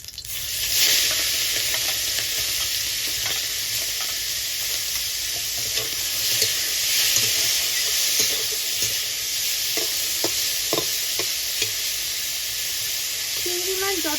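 Prawns fry in hot oil in a kadai with a steady, loud sizzle and hiss, broken by scattered clinks and scrapes of a utensil against the pan.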